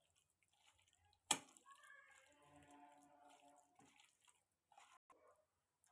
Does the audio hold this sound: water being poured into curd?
yes